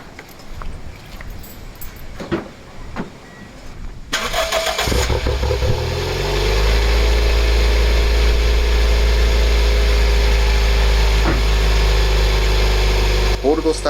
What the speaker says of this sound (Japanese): ちゃちゃっと取り付けてエンジンスタート